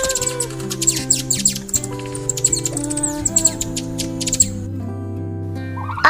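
Bright, quick hummingbird chirps flicker over a loud, continuous musical backing.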